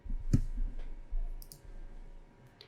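A single sharp mouse click on an update button in a taxi app, close and crisp, followed by faint lighter clicks against quiet room tone.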